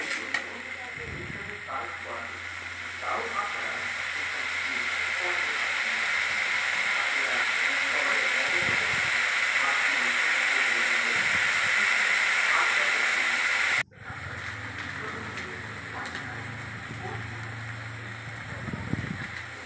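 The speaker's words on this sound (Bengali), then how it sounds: "টমেটো বাটা ঢেলে দিলাম, দিয়ে আবার কষতে থাকলাম।" Tomato paste is stir-fried in a pan for a fish curry, giving a steady sizzling hiss with occasional stirring scrapes, briefly interrupted then resuming.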